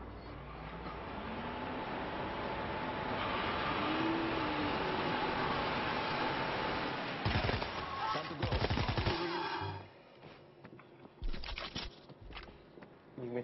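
Gunfire rattles in the World War Z Aftermath video game, loud dense automatic bursts in two stretches over a constant game roar, then a few scattered shots as the din drops.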